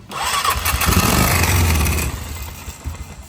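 A free four-wheeler engine is cranked on the choke after a brief battery charge, giving a loud, rough, sputtering churn that nearly catches for two seconds, then fades into uneven coughing turnover.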